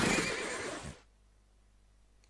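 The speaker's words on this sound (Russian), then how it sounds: "Они орут как настоящие лошади." Video game horse whinny in a cartoon fish-eating game, one loud neigh lasting about a second that cuts off abruptly into near silence.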